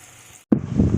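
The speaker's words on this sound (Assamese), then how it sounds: "এতিয়া পেষ্টখিনি গোটেইখিনি ইয়াতে তেলত দি দিওঁ" Spice paste dropped into hot oil and ghee starts to fry with a sudden loud sizzle, cutting in after a short silence and crackling steadily up close.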